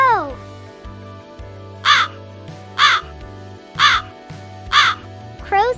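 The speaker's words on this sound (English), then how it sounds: "Crow." Crow cawing five times in a steady, evenly spaced series, loud and close, over a soft sustained musical background.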